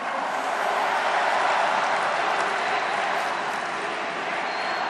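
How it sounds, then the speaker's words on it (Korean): A large crowd at a Democratic Party presidential primary rally in Gocheok Dome applauds for candidate Lee Jae-myung, a dense, steady wash of clapping filling the whole stretch without a break. "이재명 동지에게도 뜨거운 박수 보내주십시오."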